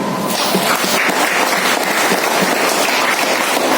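Crowd applause from an audience at a DXN business seminar in a large hall, dense steady clapping that holds at an even loudness from start to finish with no talk over it.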